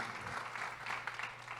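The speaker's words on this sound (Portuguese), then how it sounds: "uma salva de palmas" Steady clapping from a crowd fills the short clip, a dense continuous patter of many hands at moderate loudness.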